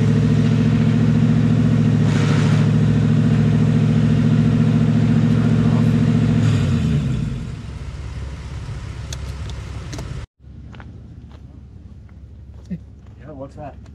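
A vehicle engine runs with a loud, steady low rumble for about seven seconds, then fades and cuts off. Quieter clicks and faint voices follow, with a trail setting nearby.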